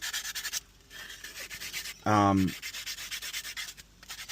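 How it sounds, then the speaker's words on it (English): Rhythmic sandpaper strokes scratch back and forth against a macadamia wood spoon, close and steady, with one brief louder tonal squeak in the middle. "Now we're sanding, and this part I like."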